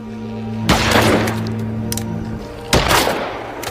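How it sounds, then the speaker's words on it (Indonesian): Two loud, heavy gunshot blasts from the zombie film Survival of the Dead ring out about two seconds apart, each with a long booming decay over a low droning score. "Akhirnya Sergei menembak semua kepala zombie itu karena ia merasa kasihan melihatnya."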